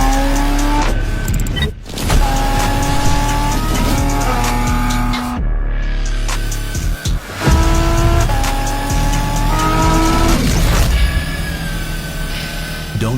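A supercar driving hard, engine revving up and down through gear changes with repeated sharp tire squeals, loud and close, backed by music.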